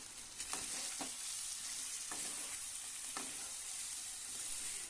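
Jackfruit pieces being stirred with spices in a hot pan, sizzling and frying steadily throughout, with a few clear scrapes of the spoon against the pan.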